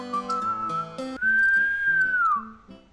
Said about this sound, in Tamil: விசில் அடிப்போம்.